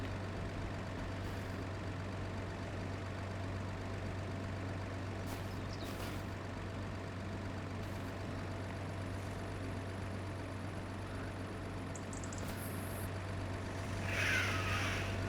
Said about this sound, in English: There we go, that's his truck.